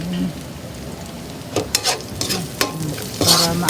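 Onions sizzle and hiss in a hot pan while being sautéed for pakbet, with a constant frying crackle and a few sharp scraping stirs of a utensil close up.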